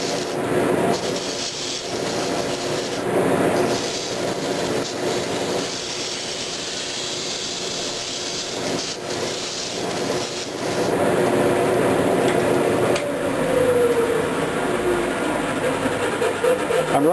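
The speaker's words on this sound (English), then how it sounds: "I'm running it at 500 RPM, and I'm going to spend about 5 minutes doing that until I kind of wear down the emery cloth" 80 grit emery cloth sanding a John Deere two-cylinder tractor brake part spinning on a lathe at 500 RPM, a continuous close, loud rubbing hiss that swells and eases as pressure shifts, over the lathe's steady hum.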